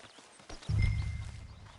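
Horse hooves clip-clop in the Red Dead video game, a short burst of close, heavy hoofbeats beginning partway through and continuing to the end.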